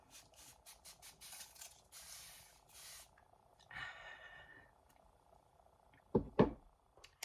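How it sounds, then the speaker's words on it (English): Several short hissing bursts of face mist from a spray can in quick succession, then a longer spritz, followed by a couple of louder sniffs or gasps near the end. "I'm just gonna spray it to hydrate it."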